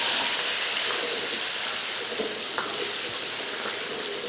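Chicken breast pieces deep-fry a second time in very hot oil, a dense continuous crackling sizzle with faint bubbling pops, close and steady throughout.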